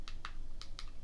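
Keys clacking on a computer keyboard while a web address is typed, five or six quick, distinct taps in an uneven rhythm, close and fairly quiet, with no talking.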